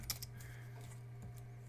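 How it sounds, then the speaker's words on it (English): Keys on a Mac computer keyboard are pressed in a few soft, scattered clicks, faint and close over a steady low hum. "I'm just clicking option 8 on the Mac"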